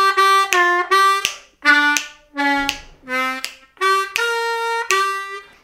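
A blues harmonica plays a lick, a close, solo run of short, punchy draw notes with bends, separated by brief gaps.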